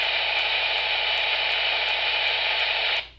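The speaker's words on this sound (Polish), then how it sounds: "w tle jest sygnał cyfrowy" Digital radio signal hissing steadily in the background of a 2 m/70 cm amateur receiver, a flat broadband noise with faint regular ticks, alone and fairly quiet, cutting off sharply after about three seconds.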